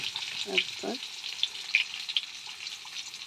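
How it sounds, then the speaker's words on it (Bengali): Pointed gourd and potato pieces fry in a pan for a vegetarian curry, giving a steady close sizzle broken by a few short clinks and scrapes of stirring. "এবার পটল আর আলু উপরে ভেজে তারপরে ভালো করে ভাজতে হবে"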